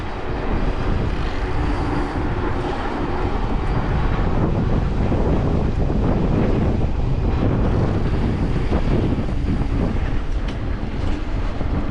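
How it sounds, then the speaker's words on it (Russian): Strong wind roars and buffets the microphone steadily during an April ride on a route out of Yalta, Crimea, with dense, continuous rushing noise throughout. "Ветрено сегодня у нас."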